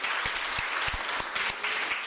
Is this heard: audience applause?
yes